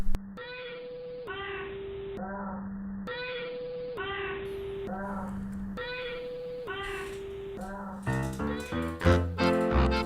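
Elderly shelter cats meowing, a steady run of repeated meows close by, followed by a clattering jumble of sound near the end.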